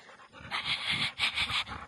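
A dog panting close by in a quiet rural house setting, with a rapid run of breathy huffs in quick bursts and no talk over it.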